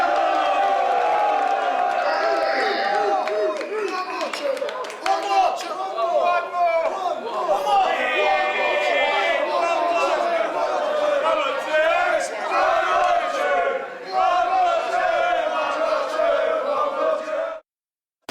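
A lively club crowd cheers, whoops and shouts continuously at close range, with voices calling out through the roar until it stops suddenly.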